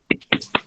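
Three sharp, separate claps in quick succession, close and clear, from participants in an online microteaching class clapping together over open microphones.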